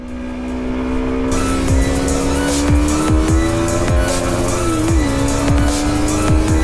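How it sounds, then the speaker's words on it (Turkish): A Kawasaki Z250SL motorcycle engine holds a loud, close, high steady rev, its drone punctuated by a regular series of sharp pops and clicks, with no talking. "Motor durduramıyorum ya durduramıyorum."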